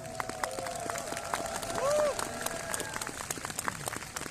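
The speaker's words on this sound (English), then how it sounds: "Give her a round of applause." An outdoor crowd in an old town square claps and cheers during a presidential speech. The applause is scattered and fairly distant, with a rising whistle or cheer near the middle.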